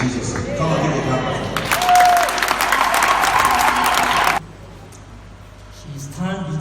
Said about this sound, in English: Come on, give me a clap.